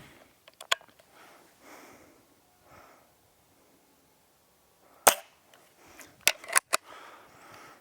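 A Hatsan Model 25 Supercharger air pistol fires .177 pellets outdoors, giving sharp, isolated cracks: one early shot, then a cluster of loud snaps with handling clicks in between.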